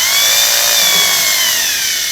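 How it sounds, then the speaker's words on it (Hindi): Power drill boring into a wall while an inverter is mounted, a loud steady whine with a scraping edge that runs continuously and close. "हम करेंगे ड्रिलिंग।"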